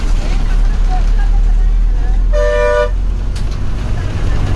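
A bus horn toots once in a short, loud tonal blast as the bus arrives, heard over constant road and engine rumble.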